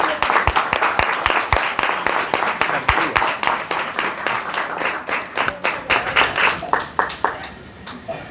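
Audience at a Christian evening gathering of songs and psalms bursting into applause, a lively burst of clapping that gradually thins out and tapers to scattered claps, with a voice heard faintly beneath it.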